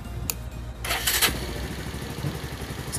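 A Bajaj Pulsar 150 motorcycle, just back from a garage after a stalling fault, cranks briefly, then catches and settles into a steady close idle, loud and alone.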